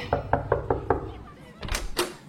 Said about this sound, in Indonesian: Suara ketukan pintu menghiasi setiap rumah.